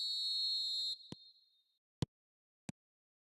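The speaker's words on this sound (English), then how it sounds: "There's the whistle" A high, steady referee whistle blown to start a match in the eFootball video game, held for about a second before cutting off and fading, followed by a few soft isolated thumps.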